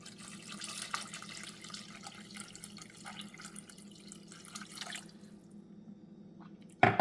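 Two cups of water poured into a pot with beef broth and caramelized onions, a soft steady trickle that stops partway through, followed by a brief sharp clatter at the end.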